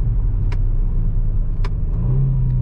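Engine of a 2019 Kia Stinger GT AWD under paddle-shifted gear changes: a steady low rumble with a couple of brief shift blips and a rising drone near the end, heard from inside the cabin.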